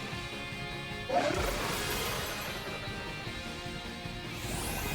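A sudden splashing crash of a Wave Crash attack in a Pokémon 7-star Dondozo raid bursts in over steady game music and background noise, a single impact that fades into a lingering rush.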